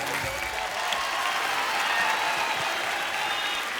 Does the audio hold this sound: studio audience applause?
yes